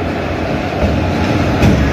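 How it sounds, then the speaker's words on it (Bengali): Tamralipta Express 12857, the Howrah to Digha train, pulls into platform 20, a loud, steady rumble of rolling coaches that swells briefly near the end, with no voices. "এই যে দেখতে পাচ্ছ আমাদের তাম্রলিপ্ত এক্সপ্রেস 20 নম্বর প্ল্যাটফর্মে ঢোকালো।"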